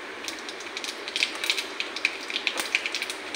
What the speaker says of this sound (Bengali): পাঁচফোড়নটা একটু ভাজা ভাজা করে নিই।